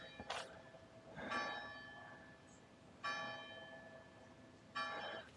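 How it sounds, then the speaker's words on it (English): A church bell in a small Italian village rings out in four separated strokes, each ringing tone decaying slowly, heard clearly at moderate distance with no voices. "There's the bell."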